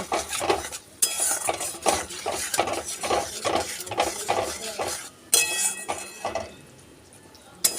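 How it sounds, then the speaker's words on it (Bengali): Turmeric, Kashmiri chilli powder and salt are stirred into a pan for a Bengali lentil-cake curry (dhokar dalna); a utensil scrapes and clinks against the pan in repeated strokes, with a light sizzle beneath. "হলুদ গুঁড়ো কাশ্মীরি লঙ্কার গুঁড়ো পরিমাণ মতন লবণ দিয়ে ভালো করে কষিয়ে নেব"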